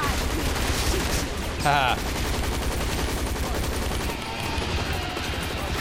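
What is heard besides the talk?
gunfire at dinosaurs in a zombies video game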